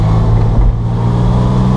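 Porsche 996 C2 Cabriolet engine above Lake Maggiore in Italy, a steady close droning hum with no talk.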